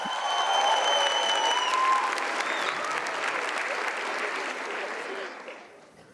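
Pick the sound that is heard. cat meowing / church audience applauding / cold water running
church audience applauding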